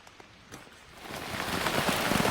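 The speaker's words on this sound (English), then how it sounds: "It's absolutely pouring out." Rain swells from a light patter into a heavy, steady downpour, loud and close, with no voices.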